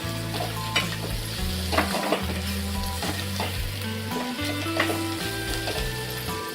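Taakla leaf vegetable is stirred in a hot pan, a continuous loud sizzle broken by repeated spatula scrapes and light metallic taps, with low tonal hum running underneath.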